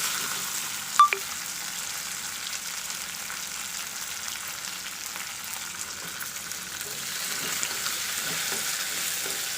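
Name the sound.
ginger garlic sautéing with onions in pan for mutton gravy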